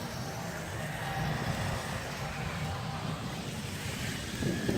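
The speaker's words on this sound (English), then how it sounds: "That wind is cold, guys." A cold wind blows outdoors in winter, giving a continuous broadband rush with low rumbling buffets against the microphone. It is steady and moderately loud throughout.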